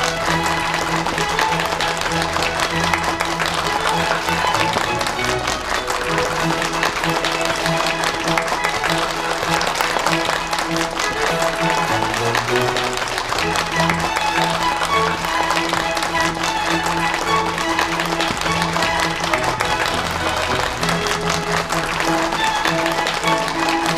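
A crowd applauds steadily at a company year-end gala as a new company president is welcomed on stage, dense clapping continuing throughout with background music.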